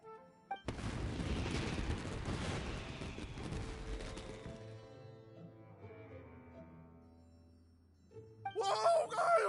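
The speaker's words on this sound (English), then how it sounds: "Yoimiya, this is turning into a bit of a fireworks display." Fireworks burst in the video game Genshin Impact as a dense volley of booming explosions. The crackling blasts fade into ringing, shimmering tones, and a short, bright chiming flourish comes at the end.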